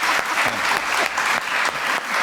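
Studio audience on a Pakistani TV talk show breaking into applause, a dense, continuous roar of clapping that swells and dips slightly, loud and close with no speech over it.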